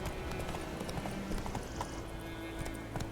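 Horse hooves clip-clop at a gallop in The Witcher 3 video game, a fast steady rhythm of close, loud thuds over a dense background of game ambience, with a brief whinny.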